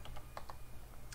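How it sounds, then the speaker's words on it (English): A few quick keystrokes tapped on a computer keyboard, light close clicks in an uneven burst over a low background hum. "I'm going to type Kdenlive"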